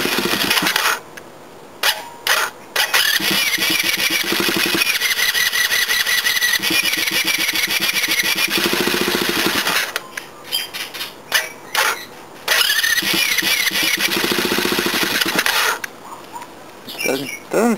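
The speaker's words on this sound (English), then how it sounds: "I'll try and get a video of the engine while I'm doing it." An untuned small mini bike engine is cold-started and run without the choke on, giving a raspy, buzzing drone close to the microphone, with brief cutouts and restarts in between.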